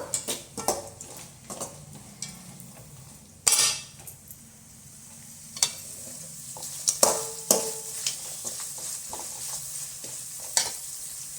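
Onions frying in oil in a pan for masala rice made from leftover rice, with a steady sizzle broken by repeated metal spoon scrapes and clinks against the pan, close and fairly loud.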